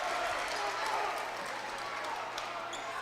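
A crowd at a high school boys basketball game between Wilkes-Barre and Crestwood keeps up a busy murmur of cheering and chatter under a commentator's voice, with a few sharp court sounds standing out near the end.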